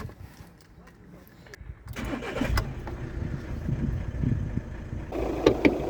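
A Volkswagen Touran's 2.0-litre, 140-horsepower engine cranks and catches, then settles into a steady idle, with a voice speaking briefly nearby.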